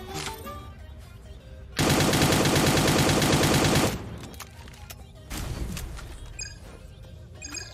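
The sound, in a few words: gunfire in video game Cyber Hunter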